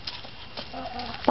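Faint, soft clucking from chickens nearby, low murmured calls scattered over a second or so with some background noise.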